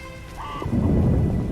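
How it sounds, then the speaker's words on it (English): Heavy rain in a video game, The Witcher Enhanced Edition, pours steadily with a low rumbling roar, growing louder and denser after a brief tonal chime at the start. "What a downpour!"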